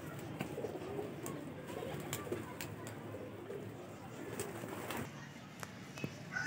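Baby Golden pigeons cooing softly in a pen, low murmuring coos repeated over faint background noise with occasional clicks, fairly quiet and close.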